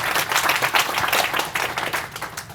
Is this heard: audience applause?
yes